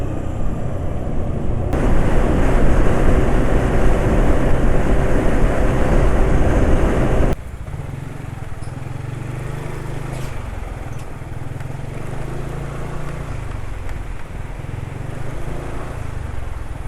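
A two-stroke scooter engine runs on Daytona oil after an Ultraline 2T drain, a steady, rough, droning hum close by that is loud at first and then drops to a quieter, even idle for the rest.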